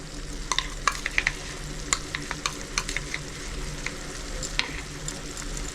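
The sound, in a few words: cashew paste being stirred into spice masala in a pan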